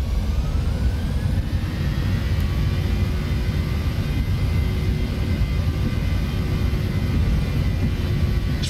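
Airliner jet engines spooling at takeoff in Microsoft Flight Simulator X, a steady loud roar with a constant rumbling low end and faint whining tones above, continuous throughout with no talking.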